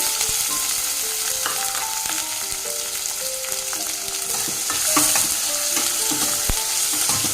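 Onions, cumin seeds and curry leaves fry in hot oil in a pan, a loud, steady close-up sizzle with scattered crackles and pops and occasional scraping of a stirring spoon, no talking.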